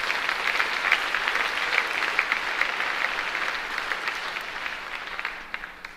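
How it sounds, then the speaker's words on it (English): An audience at a university state-of-the-university address applauds steadily for several seconds, a moderately distant wash of many hands that tapers off near the end. "let's give them a round of applause"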